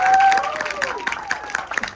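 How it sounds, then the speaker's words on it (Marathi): Audience applause after a film screening, a dense patter of many hands clapping under an overlapping voice at the start that fades as the clapping continues. "एकदा जोरदार टाळ्या झाल्या पाहिजे"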